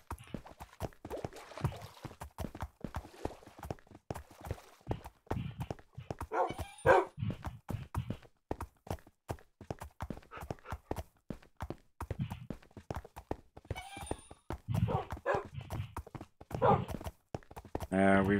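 A horse and dogs walking together through a dark oak forest in Minecraft, producing a rapid, irregular stream of soft hoof clops and footsteps with occasional short dog barks and yips scattered throughout.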